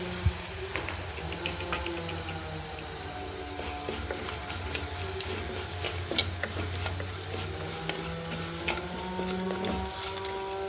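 Crushed dried red chilli and garlic fry in a pan for a Kerala banana-flower thoran, a steady close sizzle lasting several seconds with continual stirring scrapes and light clinks.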